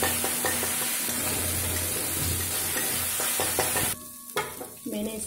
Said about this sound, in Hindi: इसको मैं अच्छे से फ्राई करूंगी जब तक इसका अदरक लहसुन का स्मेल खत्म न जाए